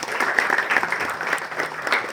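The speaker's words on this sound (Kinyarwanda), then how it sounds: "So numva mwakwiha amashyi kuri icyo ngicyo." Audience at the Miss Rwanda 2020 pageant bursts into steady, dense applause, many hands clapping close and loud for the full stretch with no break.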